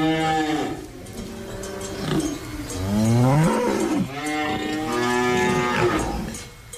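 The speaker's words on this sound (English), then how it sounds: "if you've never been within 10 feet of a cow. And in the meantime, this is what it might sound like if you don't know." Several long, drawn-out cow moos follow one another with rising and falling pitch, loud and close, with no talking over them.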